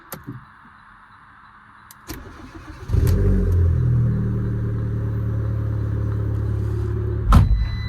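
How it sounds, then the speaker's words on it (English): A 1st-generation Audi TT engine cold start: cranks briefly, catches and fires up, then settles into a steady, loud idle rumble, with a sharp knock near the end. "I just thought I'd do a cold start."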